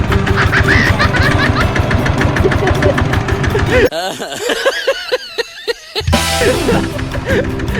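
A small farm tractor engine chugs steadily in first gear with a rhythmic knocking beat, close by and loud, its tone shifting midway as if throttled or strained.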